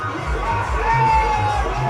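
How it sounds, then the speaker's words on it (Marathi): A large crowd at a Maratha reservation rally in Mumbai fills the air with dense, continuous babble and distant shouts, while a nearby voice talks over it. "गर्दी जमलेली आहे"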